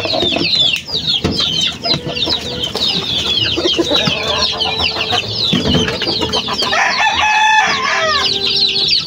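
Chicks crowd in to eat poured feed, with dense high peeping and cheeping continuing throughout, busy and close, alongside clucking and clicking pecks.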